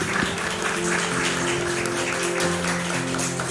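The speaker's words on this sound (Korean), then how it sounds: "우리 하나님께 감사의 박수를 한번 올려드리겠습니다" A church congregation at a Sunday service claps together in steady, moderately loud applause over sustained instrumental tones.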